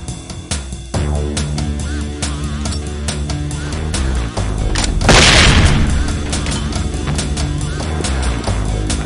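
A flashbang grenade detonates in SWAT 4 with a sudden loud bang and hissing burst midway through, amid dense gunfire and game noise throughout.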